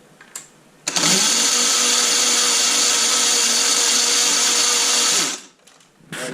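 Starter motor on a Toroo 2CV tractor, after a welded bracket fitting, whirring loudly and steadily for about four seconds after a brief click, then cutting off abruptly.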